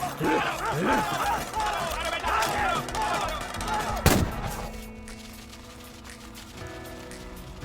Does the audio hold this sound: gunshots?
yes